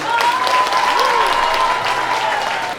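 A room full of people breaks into loud, dense applause for a teacher at a wedding celebration, sustained and close for a few seconds.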